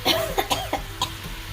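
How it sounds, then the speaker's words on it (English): Several short, harsh coughs in quick succession from a cook breathing chili fumes while making Korat-style Pad Thai, close and fairly loud, spaced unevenly over a faint kitchen background. "you can hear is I'm like coughing, right? Because of the chili"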